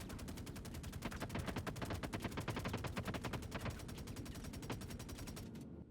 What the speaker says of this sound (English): Shoot, shoot, shoot. Finish him off.